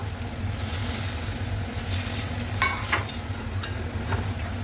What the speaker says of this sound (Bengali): এবার চিংড়ি মাছটা দিয়ে দিই, চিংড়ি মাছটা দিয়ে একটু জল দিয়ে দেবো।